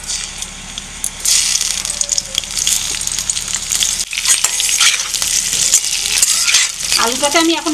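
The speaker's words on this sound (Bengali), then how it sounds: "আলুটা ভেজে নেব" Potato pieces frying in mustard oil in a wok for a Bengali goat curry, a loud continuous sizzle with stirring and scraping of the pan, and a short clink near the end.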